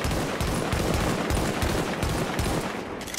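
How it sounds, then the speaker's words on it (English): Rapid gunfire from a high-end Socom M1A rifle in The Division video game, a fast, dense run of loud shots fired as quickly as possible for about three seconds, with no speech. "That's me shooting as fast as possible."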